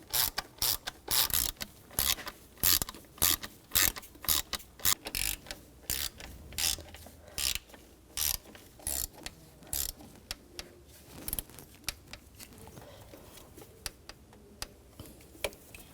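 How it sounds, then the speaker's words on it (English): Ratchet wrench tightening the throttle body screws on a 2004-2009 Audi A4 Quattro, a rapid run of close, crisp clicking bursts in repeated strokes, with brief pauses between them and no talking. "And I'll tighten the screws down."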